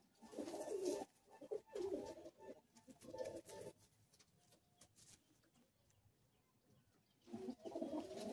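Madrasi pigeons, a breeding pair kept for sale, coo in low soft bursts, several phrases close by with quiet pauses between, no talk.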